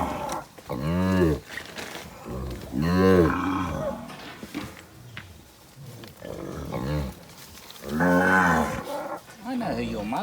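Mountain cattle bellow during a muster with deep, drawn-out moos, about four loud calls spaced through the clip, close and strong, with fainter sounds in between.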